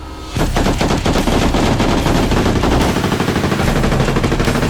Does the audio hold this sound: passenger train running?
no